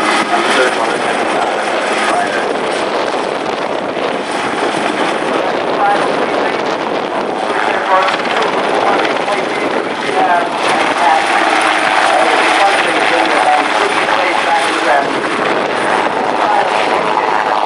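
A Super Puma helicopter's steady rotor drone fills the scene at the RIAT 2015 air show, loud and continuous, with voices talking underneath.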